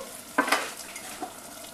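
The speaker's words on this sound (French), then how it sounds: "je vais ajouter maintenant mon eau" Water poured into a pan of sizzling rougail saucisses sets off a sharp hiss and splash, then a brief clink of utensils as the frying settles into a softer sizzle.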